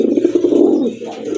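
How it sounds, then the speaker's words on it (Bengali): Punky fat pigeons coo in a low, throaty, continuous burble, close and fairly loud with no talk over it. "এটা হচ্ছে আপনার পাঙ্কি ফ্যাটের কবুতর"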